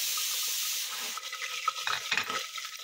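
Tempering spices hit hot oil in a pan: mustard seeds, cumin, dried red chillies, curry leaves and asafoetida. There is a loud, close hiss, then crackling pops and stirring scrapes.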